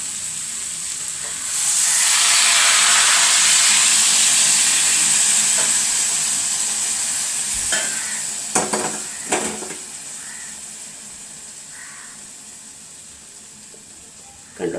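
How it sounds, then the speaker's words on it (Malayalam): Boiling water poured into a pan of cooking gooseberry pickle sets off a loud hissing sizzle that swells quickly, holds for several seconds, then fades, followed by a few clattering stirs and knocks. "തിളച്ച വെള്ളം ഒഴിച്ചു കൊടുക്കാം."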